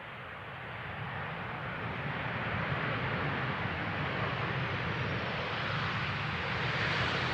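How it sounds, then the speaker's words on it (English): A KLM airliner comes in on runway 18R at Amsterdam Schiphol, its jet roar a broad steady rush building slightly and holding loud at a distance. "Another classical, dare I say it, KLM landing."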